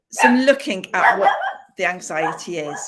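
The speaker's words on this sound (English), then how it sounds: "Sorry, that's my dog." A dog barks several times in short, sharp yaps during an online talk, close and loud, overlapping a person's speech.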